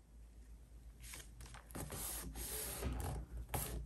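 A sewing machine stitches a heavy postcard onto a junk journal page, giving a few short, quiet mechanical whirring runs separated by brief pauses, close up and with no talk.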